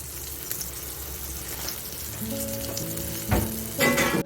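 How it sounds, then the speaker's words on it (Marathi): Halwa fish (pomfret) frying in oil over a low gas flame, Malvani style, giving a steady close sizzle with a few louder crackling bursts near the end and no voices. "त्या स्लो मध्ये आपण हा छान खरपूस असा फ्राय करून घेणार आहोत"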